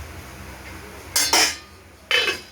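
A lid placed on a pot of katla fish curry with potatoes, heard as two quick metallic clinks close together and then a third clink a moment later over quiet room tone.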